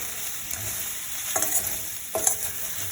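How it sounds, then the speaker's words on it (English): Okra being stirred in a dry pan with no oil: a steady broadband sizzle with two sharp scraping strokes of the spoon midway, close and clear, no talking. "And stir it."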